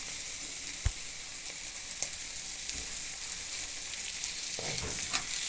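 Curry fries in a pan with coriander leaves stirred in, a steady close sizzle with occasional soft clicks and scrapes from stirring.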